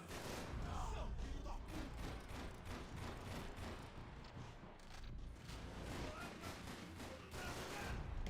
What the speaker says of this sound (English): Stop shooting at the ceiling, Max.